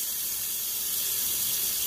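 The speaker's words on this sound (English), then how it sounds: "Now I'm going to add some water." Tap water runs steadily and fairly loud into a sink or bowl to rinse raw chicken, a continuous rushing stream with no talk.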